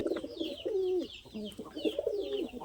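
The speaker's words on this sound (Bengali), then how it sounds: "ডাক শুনুন ডাক শুনলে কবুতর বোঝা যায়" Domestic pigeons in a home loft give a run of soft, throaty cooing calls close by, rising and falling in repeated phrases with no talking.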